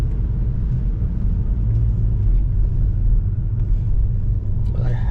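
Steady low rumble of a Volkswagen Golf GTI engine easing off the throttle on the wet Nordschleife, heard from inside the cabin with continuous road and tyre noise throughout.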